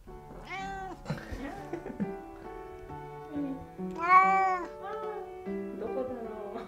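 A tricolour calico cat kept in a home café meows several times, with light human voices around it and soft indoor movement noise.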